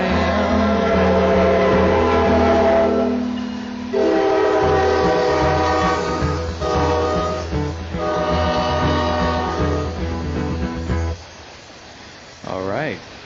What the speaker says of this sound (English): We had to have at least one cargo train coming through here. They're coming through like every hour here.